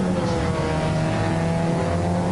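Stock cars circling an indoor track at Paris Bercy in 1998, engines droning steadily and continuously with a dense, roaring mechanical hum throughout, no voices over it.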